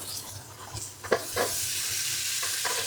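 Shrimp and potatoes fry with turmeric in a pan, giving a steady close sizzle and hiss, punctuated by a few stirring scrapes.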